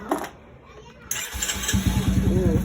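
A long-unused automatic motorcycle, likely a scooter, is started after a quiet pause, and its engine catches and settles into a close, rhythmic putter while people talk nearby.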